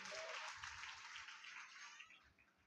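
Applause from a congregation during a Telugu church sermon, a dense steady wash of many hands clapping that fills the space and gradually tapers off toward the end.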